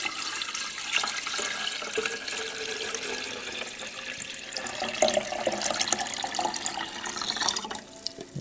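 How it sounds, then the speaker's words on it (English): Water is poured into a percolator, a continuous splashing trickle close by that runs for several seconds and tapers off near the end, with no voices. "Water, pour it in."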